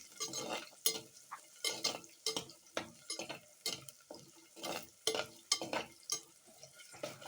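Ingredients being sautéed in oil in a pan for a home-style fish curry, with rhythmic stirring scrapes and a soft sizzle repeating at close range, no talking.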